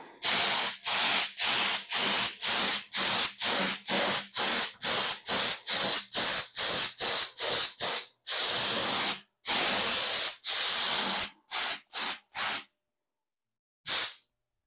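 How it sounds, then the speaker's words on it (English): A paint spray gun hisses in short, repeated bursts, over twenty quick blasts in steady rhythm, then a few longer sprays, a pause, and one final burst. "Time to spray it."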